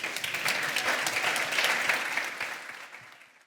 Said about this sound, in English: If I can ask for a big round of applause for the two of them.